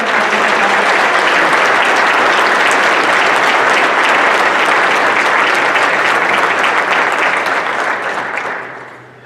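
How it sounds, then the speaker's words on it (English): At a school district awards evening, a large indoor audience gives a loud, sustained round of applause for community partners, holding steady for several seconds before tapering off quickly at the end. "Let's give them a round of applause."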